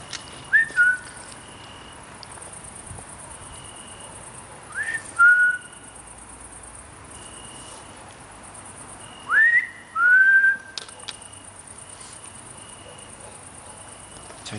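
A person whistles three short rising-and-falling notes, spaced several seconds apart, at a former prisoner-of-war camp at night, against a steady background of chirping crickets.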